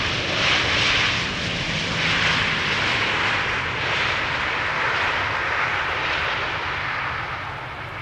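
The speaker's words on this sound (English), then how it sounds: "Flight Radar says there's a Cessna 172 passing in the vicinity." A Cessna 172 light aircraft passes in the vicinity of Schiphol airport, its broad engine drone steady and moderately loud before fading slightly at the end.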